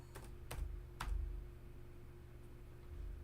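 Computer keyboard typing as a few soft, quick keystrokes near the start, faint and close, over a steady low room hum.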